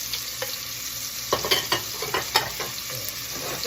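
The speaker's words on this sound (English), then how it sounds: "I have lowered the heat because we want to just soften these vegetables, onions. And celery." Onions and celery soften over low heat in a pot for sausage and corn chowder. A quiet steady sizzle runs throughout, broken by a cluster of stirring scrapes and clinks near the middle.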